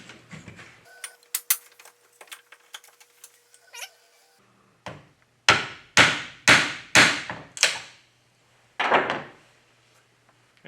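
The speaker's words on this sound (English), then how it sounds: "So I line it up on my line here, bring it down. And just little taps will take it right out." Steel chisel tapped into wood to chop out a section of a phone chair, a run of about five sharp, close knocks in quick succession, with scattered lighter clicks and handling noise around them, no talk.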